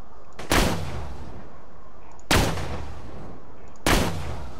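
Three sharp gunshots from a firearm in Borderlands 2, spaced about two seconds apart, each a loud broadband crack with a short tail over a steady game ambience.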